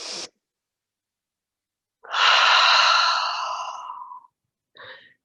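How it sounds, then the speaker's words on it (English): Slow, deep breathing during a gentle online yoga class: a short breath, then one long, loud, breathy exhale lasting about two seconds, and a brief softer breath at the end, close to the microphone. "And breathe."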